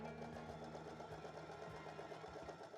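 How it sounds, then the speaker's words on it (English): A sewing machine stitches across a ripped armpit seam of a thrifted garment, a steady close whirring hum with a fast regular needle rhythm and no pauses. "So for this one, you can see that it's ripped on the armpit, and we're just gonna sew across."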